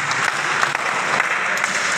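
A crowd claps steadily and densely after the ladies' final of a KP table tennis championship in Abbottabad, the applause holding at a constant level throughout.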